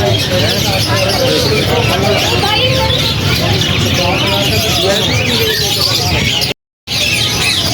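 Chickens clucking and chirping amid busy outdoor background noise, steady and fairly loud throughout, with people talking over the birds and one brief dropout near the end.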